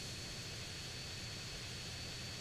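A military jet in GTA San Andreas gives a steady, dense engine roar with a high whine on top, unbroken and fairly loud throughout, with no voices.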